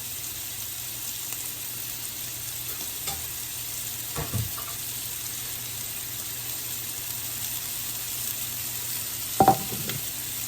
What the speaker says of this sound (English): As you can see, the meat cooks really, really fast.